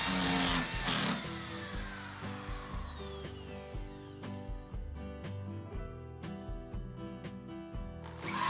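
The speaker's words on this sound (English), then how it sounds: "Next, I drill a larger hole with a 1/2 inch paddle bit." A drill with a 1/2 inch paddle bit cuts a hole for an N-scale model railroad layout, a steady whirring with repeated clicks and taps, fairly quiet and close.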